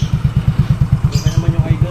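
A Yamaha Mio 160cc scooter engine with an MTRT big valve head idles close by in a steady, even low putter, with a brief higher whine partway through.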